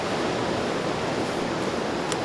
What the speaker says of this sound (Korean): 파도가 많이 있죠. 심하게 칩니다.